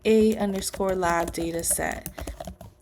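Fingers type a file name on a computer keyboard, producing a quick run of light key clicks close by while a person talks over them throughout.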